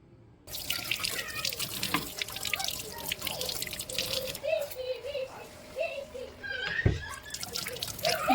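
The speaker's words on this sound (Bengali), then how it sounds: "সেই জন্য এখন আমি হাতটা ধুয়ে নেব।" Tap water runs steadily into a sink while hands are washed, with splashing and dripping throughout and occasional soft background sounds.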